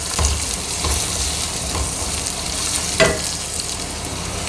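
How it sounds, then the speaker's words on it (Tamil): Finely chopped large onion sizzles in hot oil in a pan, giving off a steady, loud frying hiss and one brief clack of stirring. "அதை நம்ம நல்லா வதக்கிக்கலாம்."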